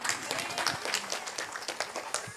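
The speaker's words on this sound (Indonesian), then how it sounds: "Tepuk tangan yang meriah." A lively audience applauds at a seven-month pregnancy ceremony with a PSHT arts parade, the clapping dense and moderately distant, with some voices mixed into the crowd noise.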